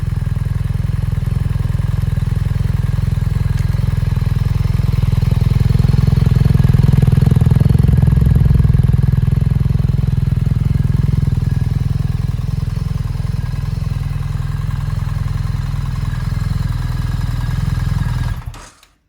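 BMW R1300 GS motorcycle with a black titanium Akrapovic exhaust idling and revving in a deep, steady rumble, swelling slightly before settling and then cutting off at the end.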